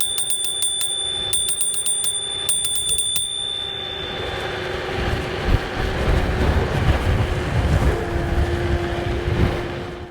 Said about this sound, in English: And then this does have the bell, so this is how it sounds.